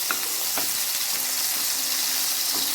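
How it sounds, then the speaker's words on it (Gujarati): Garlic cloves frying in hot oil with chillies and tomatoes for a mango-tomato chutney, a continuous bright crackling sizzle with a few sharper pops, close and alone. "હવે ગરમ તેલમાં કળી સરસ સતળાશે"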